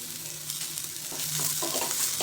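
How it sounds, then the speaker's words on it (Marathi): Ginger garlic paste fries in hot oil, a soft steady sizzle with light scraping strokes of a spoon stirring it around the pan; quiet and close, no voices. "बघा आता ह्यामध्ये आपल्याला आलं लसूण पेस्ट घालायची."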